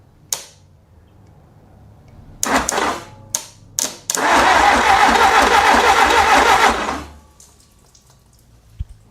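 An engine is cranked over through a starter solenoid: a few short, sharp churning bursts, then a loud, sustained crank of about three seconds that cuts off into near silence.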